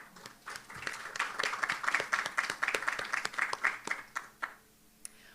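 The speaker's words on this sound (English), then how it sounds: "I'd like to offer a round of applause and thank them today." A conference audience applauds, the clapping swelling quickly into a steady patter of many hands, then thinning and fading out after about four seconds, with a few stray claps at the end.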